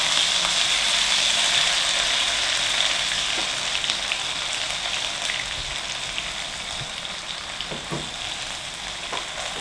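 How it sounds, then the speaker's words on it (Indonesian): Fish, smoked skipjack tuna for panada filling, fries with ground spice paste in a pan, giving a constant close sizzle with occasional scraping clicks from stirring. "kita sekarang goreng ikannya ya untuk isi kulit panada"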